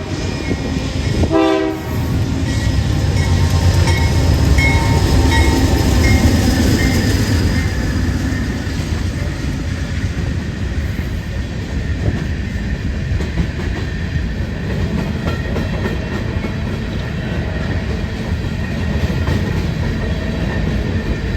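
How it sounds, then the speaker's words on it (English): A Union Pacific westbound coal empties train led by two GE locomotives sounds a loud horn blast early, then rumbles past with a steady roar and clattering wagon wheels, faint squeals, continuing for the whole stretch. "Our next train would be another UP, this one being a westbound coal empties."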